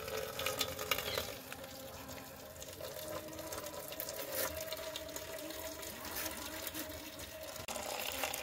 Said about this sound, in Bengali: ততক্ষণে আমি ফ্যানটা ঝেড়ে নিই